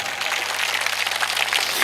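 Steady crowd applause at a Hindi poetry recital, a dense wash of many hands clapping throughout, fairly loud and continuous with no voices on top.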